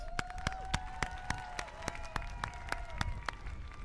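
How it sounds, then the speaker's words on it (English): Audience applause for graduating valedictorians at a Sunset Park High School ceremony, a moderately distant crowd clapping steadily, with a few louder claps standing out. "Another round of applause for our valedictorians."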